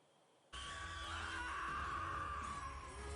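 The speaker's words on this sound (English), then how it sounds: "Kudos to the sound people on this show because those screams are horrifying." Creatures in a dark animated fantasy episode let out a sustained, shrill, harrowing scream that bursts in suddenly and holds loud and steady throughout.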